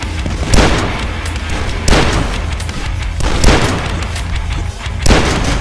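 Heavy repeated blasts from the riveter weapon in the shooter game Dusk, loud booming shots at roughly one-and-a-half-second intervals over a constant rumbling din, with no talk.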